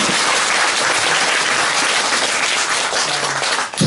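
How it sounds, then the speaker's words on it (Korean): Dense, steady applause from an audience honoring a committee chairperson, filling the whole stretch at even strength before tapering off near the end. "조덕실 위원장님 다시 한번 박수를 부탁드립니다"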